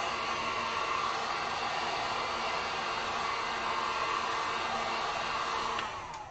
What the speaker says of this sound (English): throw the heat gun on this real quick, guys